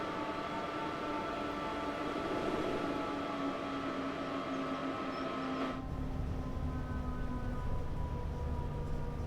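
A Class 87 electric locomotive in Train Sim World slows under braking on the West Coast Main Line between Preston and Carlisle, a steady rolling rumble and hiss with a tonal whine that drops as the train eases down, no talking.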